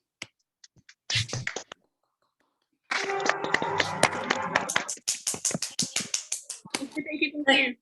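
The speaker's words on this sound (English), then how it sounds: "Can we all unmute and give them a warm applause" Scattered claps from participants of an online masterclass after unmuting on a video call, sparse and uneven at first, then a quicker flurry of separate hand claps mixed with brief voices.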